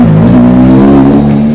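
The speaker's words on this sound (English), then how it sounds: "the sweet sound of revving engines" Supercar engines at a car show rev hard, producing a loud, close, sustained roar whose pitch swells slightly and holds through the short burst.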